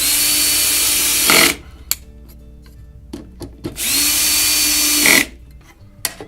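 A power tool whirs in two loud bursts, each about one to one and a half seconds long, fastening a bird-deterrent mounting bracket, with brief clicks and handling knocks between the runs.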